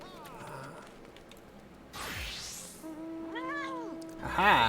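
A fat cat mount in Final Fantasy XIV gives a few short meows among game effects and a rising whoosh, with soft background sounds throughout.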